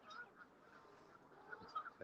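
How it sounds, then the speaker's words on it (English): Geese honking at a local pond, soft and distant, with scattered calls rising over a quiet outdoor background. "You can hear all the kind of geese talking."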